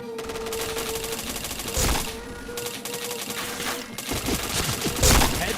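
Video-game shooter gunfire: loud, rapid bursts and volleys of shots crack repeatedly across the short stretch, with a few heavier booms standing out.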